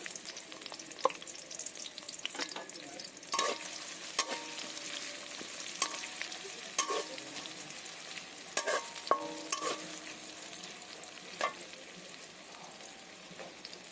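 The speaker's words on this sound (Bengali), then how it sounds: "পেঁয়াজটা ভাজা ভাজা হোক।" Onions and green chilies fry in oil in a wok, a soft crackling sizzle punctuated by repeated sharp scrapes and clinks of a stirring utensil, close and without speech.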